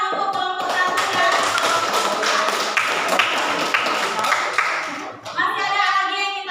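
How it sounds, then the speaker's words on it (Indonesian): Pupils in a classroom clap for the first student group, a quick, slightly uneven burst of hand claps and taps that stops abruptly, followed by children's voices. "Silakan tepuk tangan untuk kelompok 1 ya."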